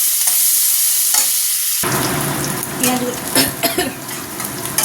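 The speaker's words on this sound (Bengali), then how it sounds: "ভালো করে পেঁয়াজটা ভেজে নিই" Onions and nigella seeds hit hot oil in a pan, and a soft hiss jumps into a loud, crackling sizzle that keeps bubbling unevenly up close, with no one speaking.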